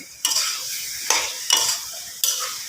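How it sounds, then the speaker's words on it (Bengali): Bottle gourd and chicken necks stirred in a sizzling frying pan: four distinct scraping stirs at close range, each swelling the steady hiss of frying, with no talking. "আমি একটু নাড়াই চাড়াই দিচ্ছি"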